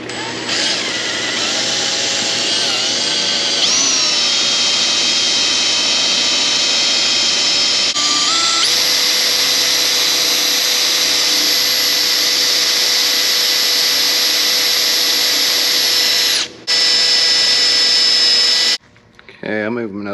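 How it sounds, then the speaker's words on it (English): A power drill with a 1/4 inch bit whines steadily at high pitch boring through metal on a Ford Fairlane, its tone shifting slightly as it bores, then cutting out briefly near the end. "now we're going to take a 1/4 inch drill bit and drill through this"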